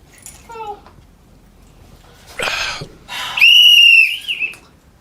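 A small novelty toy whistle is blown close by in one sustained shrill tone that wavers briefly. It follows some breathy huffs and rustling, and there is no talking.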